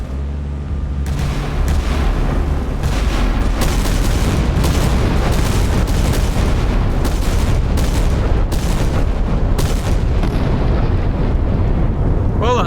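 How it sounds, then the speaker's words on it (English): Big guns of a Yamato-class and an Iowa-class battleship fire in the naval game Sea Power, loud booming salvos and blasts crowding together in rapid, overlapping bursts over a constant roaring rumble with no talk. "Until the big guns start firing"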